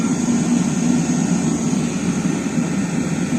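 A car-type diesel autonomous air heater, run without its remote or control board, burns with a steady, loud, close combustion roar and fan rush that holds even throughout, with no voices.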